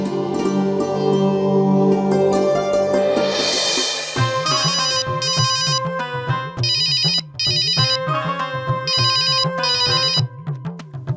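A phone ringtone plays loudly on its own, a repeating electronic melody of bright chiming tones in a steady rhythm, following a short burst of dramatic music.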